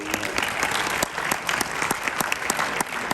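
Audience applause at a school winter sports awards ceremony, steady clapping from a crowd filling the moment with distinct hand claps throughout.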